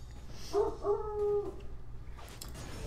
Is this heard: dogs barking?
yes